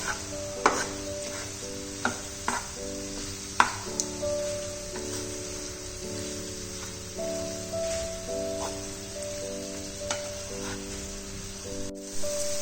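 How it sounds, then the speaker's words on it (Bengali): Chopped snake gourd sizzling steadily in a hot pan while cooking chichingar torkari, with a constant fry hiss and periodic sharp scrapes and clinks of a spatula stirring. "চিচিঙ্গাটা অনেকটা ফ্রাই হয়ে এসছে"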